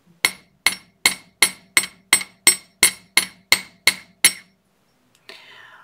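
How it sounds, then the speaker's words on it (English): A hammer taps a wire earring hook eleven times in an even rhythm, each strike a sharp, close metallic clink, then silence and a faint rustle. "I'm also just going to give it, you know, a slight tapping for hardening"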